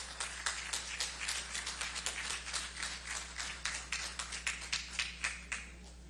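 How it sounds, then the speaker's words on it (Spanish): Applause at an award ceremony honoring a promoter of clean sport, a small group clapping in steady, distinct claps over a low hum for several seconds, no talk. "Y ese aplauso que se sienta hasta en la fotografía"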